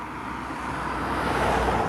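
Distant roar of traffic on Europe's busiest road, half a mile to a mile away: a continuous broadband rumble that slowly swells louder, with no talking.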